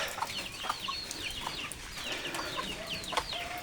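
Chickens cluck repeatedly in a backyard, short fowl calls scattered at a steady, fairly close distance over faint outdoor ambience, with no one talking.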